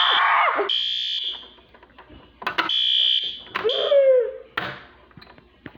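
A building fire alarm sounds after a manual pull station is pulled during a test, its loud, steady electronic tone pulsing in on-off bursts with brief gaps, joined by a few short voices and clatter between blasts.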